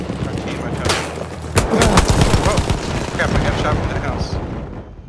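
Gunfire and explosive blasts in a Battlefield 1 Conquest match on the Sinai Desert map: loud, overlapping machine-gun bursts and single shots, with a heavy impact partway through, while voices talk over it.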